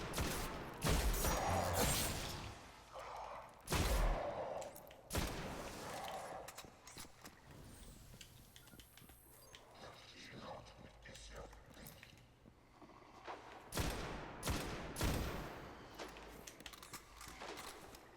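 Bursts of video game gunfire aimed at a captain enemy in a Destiny Nightfall strike, sharp repeated shots in clusters mixed with other game effects, fairly faint overall.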